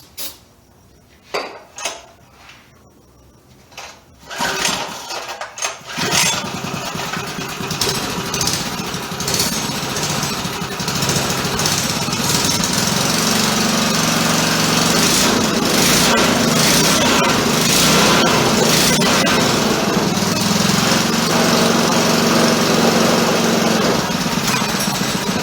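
A minibike's small engine sputters and coughs in a few sharp bursts, then catches on starting fluid and settles into a loud, rattling, continuous high-pitched run that holds steady to the end.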